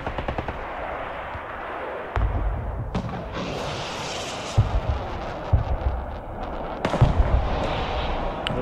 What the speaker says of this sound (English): I got a missile coming for that artillery.